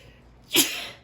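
A single sharp, close sneeze bursts out abruptly and fades quickly.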